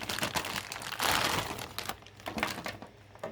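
Plastic packaging around Corsair RM850 modular power supply cables is crinkled and torn open by hand, a dense run of close crackling, crumpling and ripping that thins out toward the end.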